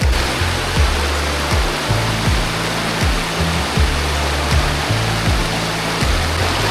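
Water currents rush and churn at a riverside resort, a loud, broad continuous roar of flowing water with low repeating thumps underneath.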